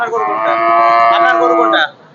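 A single cow gives one loud, close, drawn-out moo lasting nearly two seconds at a Bangladeshi cattle market, then it stops abruptly.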